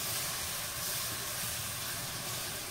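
Milk poured a little at a time into a pan of sauce for mac and cheese and stirred steadily, giving a constant loud broadband hiss and sizzle with no pauses.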